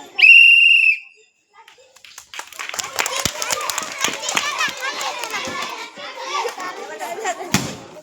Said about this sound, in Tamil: அதுக்கு தான் விசில்.